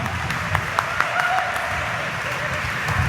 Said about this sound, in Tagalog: pumalakpak nga